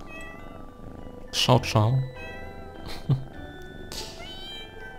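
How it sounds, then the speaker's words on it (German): A cat in the video game Pocket Mirror meows several times in quick succession, clear and close over a soft musical background, while a person speaks briefly. "Oh, das Miauzen ist so süß."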